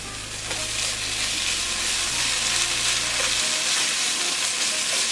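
Chicken peralan stirred in a hot pan, a dense steady sizzle and frying hiss with faint scrapes of stirring, close and continuous, no talking.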